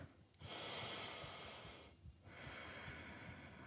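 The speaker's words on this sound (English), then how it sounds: "take a full breath there" Two slow, audible breaths during a yoga session, each a long airy inhale or exhale close to the microphone, separated by a short pause, quiet and without speech.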